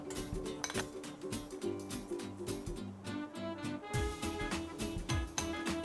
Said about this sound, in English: we're just gonna fish out our wontons and put them directly into our serving bowl